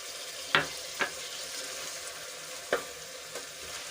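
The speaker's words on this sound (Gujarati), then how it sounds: "મિક્સ કરીને થોડાક સોફ્ટ થઈ જાય ત્યાં સુધી આપણે એને સંતળાવા દઈશું" Chopped tomato sizzles as it sautés with ginger, garlic and chili in a pan, a steady close frying hiss with a few brief spoon taps, no speech.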